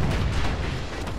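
Guns fire from a security skiff in the video game Bastion, a dense, continuous rumble of booming shots with no clear gaps, loud and close throughout.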